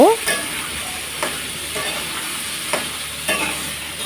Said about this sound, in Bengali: এখন আমি এই সবজিগুলো একটু কষিয়ে নেব